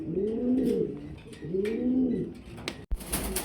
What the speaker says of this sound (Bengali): এখানে ডিম সহকারে একজোড়া লাহোরি কবুতর দেখাচ্ছি।